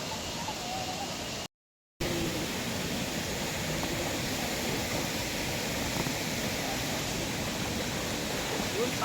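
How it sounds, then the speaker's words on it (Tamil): Mountain stream water rushing steadily along a hillside path near Pampa on the Sabarimala pilgrimage route, a continuous broadband flowing roar that holds evenly throughout, briefly cut off for a moment near the start. "நல்ல மலையில தண்ணி போய்கிட்டு இருக்கு"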